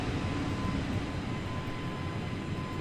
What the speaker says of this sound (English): That's the JETSTAR A321 from LatinVFR with the Horizon mod